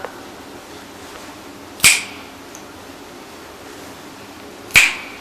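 Two crisp, close finger snaps ring out about three seconds apart, each a sharp isolated crack against quiet room tone.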